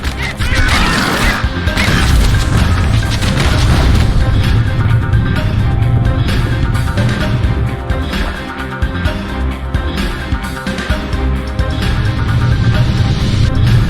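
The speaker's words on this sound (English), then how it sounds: "Security skiffs keep on coming starboard side. Don't seem to care what they shoot, as long as they hit something." Loud, dense crashes and impacts from enemy security skiffs firing on a ship in the action game Bastion, a continuous barrage of smashing hits mixed with game music, sustained for the whole stretch with no speech.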